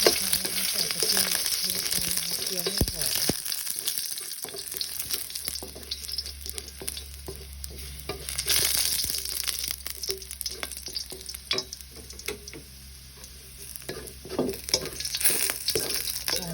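Rice stir-fried in a pan with chopped tomato and crushed garlic, a loud continuous sizzle and hiss with the scrape and clatter of stirring, close up and with no talk.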